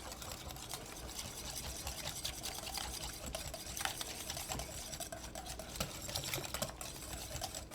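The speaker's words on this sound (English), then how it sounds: "About a 1/2 cup of milk. Stir that around." Milk is stirred into Best Foods mayonnaise for Hawaiian macaroni salad, making a quiet, continuous wet scraping and swishing in a bowl, faint and steady for several seconds.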